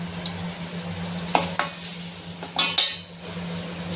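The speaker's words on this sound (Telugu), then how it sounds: "చివరగా ఎండుమిర్చి ఒక 3 ఎండుమిర్చి తుంటి వేసుకోవాలి ఫ్రెండ్స్" Dried red chillies frying in oil for a drumstick pickle tempering: a soft steady sizzle under a low hum, broken by a few sharp spoon clicks and a louder crackling burst near the end.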